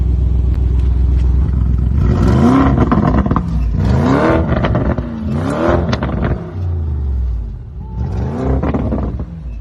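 A powerful supercar engine in sport mode with the exhaust opened up revs repeatedly in loud rising and falling bursts, close by, the exhaust roaring and crackling between throttle blips.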